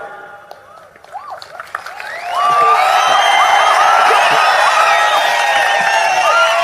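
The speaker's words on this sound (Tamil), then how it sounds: "கைதட்டுக்குன்னு கொஞ்சம் பேர காசு கொடுத்து கொட்டி வந்திருக்காங்க" A crowd at a political rally bursts into loud, sustained clapping and cheering that swells after a quieter, murmuring start and then holds steady, with whoops mixed in.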